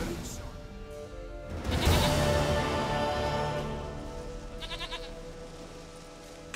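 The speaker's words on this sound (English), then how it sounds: "Goat of mine, dearest, sweetest goat." A goat in The Witcher 3: Wild Hunt lets out drawn-out, wavering bleats, loud and close, over a game ambience and music bed.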